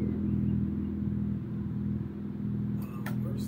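A car in the CarX Street racing game, played on PC with a wheel, pedals and stick shift, cruising with a steady low engine drone, with a couple of brief sharper noises near the end.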